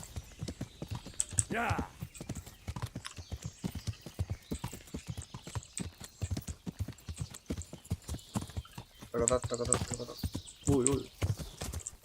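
In Kingdom Come: Deliverance, a horse's hooves clip-clop in a fast, steady rhythm throughout, with a whinny and brief exclamations from a man over the hoofbeats.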